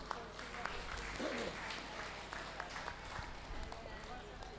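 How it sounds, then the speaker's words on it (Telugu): A crowd claps loudly at a pyramid inauguration event in Puranipet, with dense, steady applause filling the scene under ongoing talk and background murmur. "గట్టిగా చప్పట్లు కొడుతూ"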